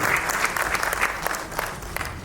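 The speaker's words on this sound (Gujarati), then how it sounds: "કવિ યજ્ઞેશ દવેને આપણે તાળીઓના આદર સાથે અને અભિનંદન સાથે સ્વાગત આપીએ." Audience applause welcoming a poet at a Gujarati mushaira, a steady dense clapping from a crowd that fills the whole moment without pause.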